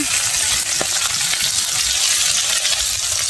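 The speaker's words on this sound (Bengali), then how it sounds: "বন্ধুরা এই দেখুন আমার সবজি ভাজা হচ্ছে।" Vegetables fry in a pan with a steady, loud sizzle and crackle, with faint stirring and a single clink partway through; no voices.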